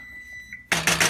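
Kitchen timer going off at the ten-minute mark while almond cauliflower pizza crust bakes, a loud, sustained electronic beeping that starts abruptly after a quiet stretch with a faint tone.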